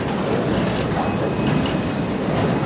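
CSX freight train Q410 led by locomotive 5426 rolling past close by, a loud steady rumble of wheels and cars with rhythmic clatter and no talk.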